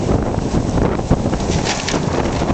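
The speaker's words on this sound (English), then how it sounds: "Oh, here comes the wind." Strong wind gusts outdoors as a house is pulled down, a loud, dense rushing roar buffeting the microphone steadily for a few seconds, with a brief thump partway through.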